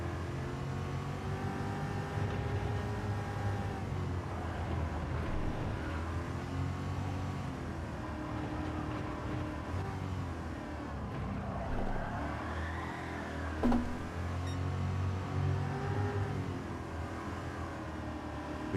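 A Gran Turismo 7 GR3/GR4 race car engine drones and revs steadily through corners, pitch rising and falling, with a sharp burst near the middle and no talking.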